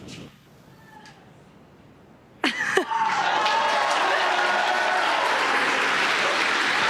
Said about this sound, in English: You can hear the cheering in the background.